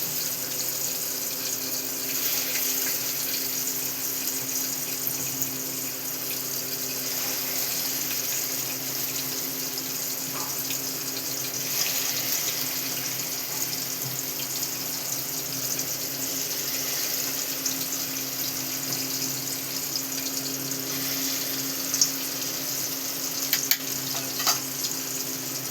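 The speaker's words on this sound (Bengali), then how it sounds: "আস্তে আস্তে করে বড়াগুলো আমি ভেজে নেব।" Masoor dal fritters fry in white oil with a steady, continuous sizzle that stays even throughout, with no talking and only a few faint clinks near the end.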